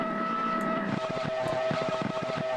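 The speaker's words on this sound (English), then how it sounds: "And then we can do the exhaust sounds" Modelled race car exhaust sound built in FMOD, a steady synthetic engine drone with a rapid pulsing flutter, fairly quiet and continuous with no voices.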